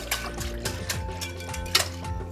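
Water pours and trickles steadily into a container of yogurt, with soft splashing and a brief clink, close by.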